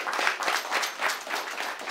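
Group applause for the drummer at a Haitian Kanzo and baptism ceremony, dense, even clapping that swells in small pulses, nearby and continuous.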